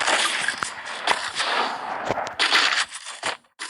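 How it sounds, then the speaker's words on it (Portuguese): Rapid bursts of gunfire crack in quick succession in Counter-Strike, sharp and loud, with short pauses between volleys. "errei o tiro"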